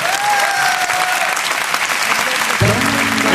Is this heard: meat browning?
no